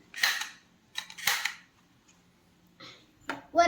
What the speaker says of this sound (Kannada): ಇದು ಕೂಡ ಒಂದು ಪಟಾಕಿ ಗನ್ನೇ